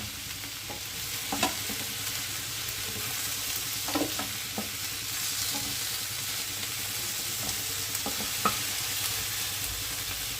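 Cauliflower, spring onion and beans stir-fry in a wok with a constant low sizzle and occasional spatula scrapes and knocks, close and steady with no speech.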